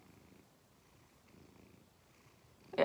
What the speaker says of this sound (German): Er schnurrt, er hat die Motoren angeworfen.